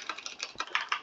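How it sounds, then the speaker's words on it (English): A stupidly loud computer keyboard clatters with rapid typing, about half a dozen crisp, close keystrokes in quick succession. "My keyboard is so stupidly loud that it's like probably like interfering with the mic"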